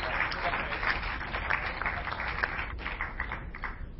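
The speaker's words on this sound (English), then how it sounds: "let's give a round of applause for that, too." Audience clapping at an esports tournament rattles on steadily for a few seconds, moderately distant, with some voices mixed in.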